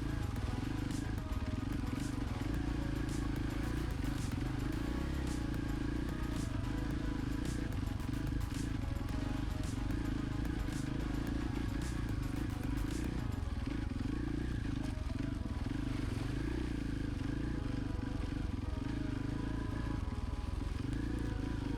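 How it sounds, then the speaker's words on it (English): A rally motorcycle idles at low revs through a long, slick, mossy rock section in Appalachia, with a steady continuous engine drone and light clattering over rocks throughout. "You can see I'm just like slipping the clutch and like essentially idling my way through these."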